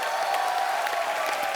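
Studio audience applause at a comedy talk show taping, a steady wash of clapping filling the room for the full moment with no voices over it.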